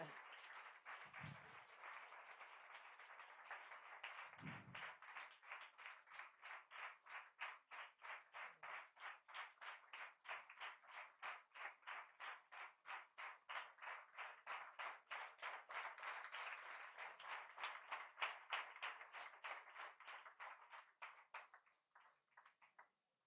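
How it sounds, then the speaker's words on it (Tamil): Sustained audience applause filling a hall at a birthday celebration, dense steady clapping from many hands lasting over twenty seconds before tapering off at the end, with a couple of brief low thumps early on. "பெரிய கைத்தட்டல்."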